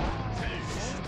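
A dense, loud explosion in the video game Yakuza 6 fills the whole moment with a sustained rumbling roar and crashing noise, with no talk over it.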